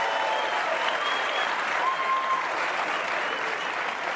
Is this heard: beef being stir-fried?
no